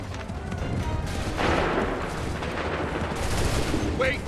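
Musket volley gunfire in Assassin's Creed III, a fairly faint battlefield wash of scattered shots and rumble with a brief burst in the middle, set against distant battle ambience.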